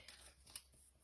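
Scissors trim the edge of a handmade Christmas card, two or three faint, quick snips close to the microphone in an otherwise quiet room.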